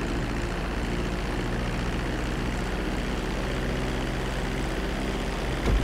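A propeller airplane descending toward a runway to land in GTA 5 gives a steady, loud engine drone that holds evenly throughout with no voices.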